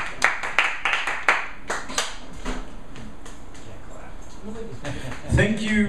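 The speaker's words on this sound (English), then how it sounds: "Let's have another round of applause for Scott, please" Enthusiastic applause from an open mic poetry audience, dense claps in the first couple of seconds thinning into scattered claps, with voices near the end.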